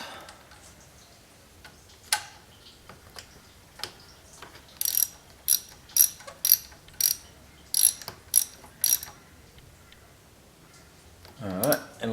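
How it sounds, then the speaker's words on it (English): Hand tools work on the coolant valve of a 2008 Honda Civic Hybrid, giving sharp ratcheting clicks, first scattered and then in a quick regular run of about ten, close and fairly loud in a quiet space. "Okay, so let's tighten that valve back up."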